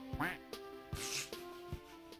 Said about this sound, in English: I really, really like the quack when you die